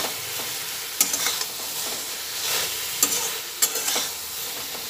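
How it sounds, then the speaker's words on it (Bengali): Eggplant frying with salt in a pan for a kasundi dish, a steady close sizzle broken by several sharp spatula scrapes as it is stirred, with no voices. "নুন দিয়ে আবার একটু ভালো করে নাড়াচাড়া করে নিচ্ছি"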